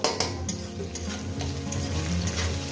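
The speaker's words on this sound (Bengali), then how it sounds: "লবণটাকে দিয়ে আমি এখানে ভাজবো" Prawns with salt frying in a pan for a yogurt prawn dish, with a steady close sizzle and soft stirring scrapes and taps on top throughout.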